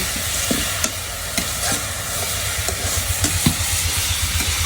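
Vegetable bhaji frying in a pan, a loud, constant sizzle broken by regular scraping strokes of stirring, close up with no talk.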